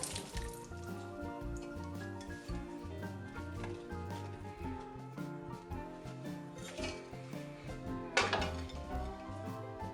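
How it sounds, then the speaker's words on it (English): Green tomato chutney ingredients tumble into a large pan, with clinks of metal and cookware, knocks, and wet drips in a busy, fairly quiet sequence and a sharper clatter near the end. "Now put all of your ingredients into a large pan."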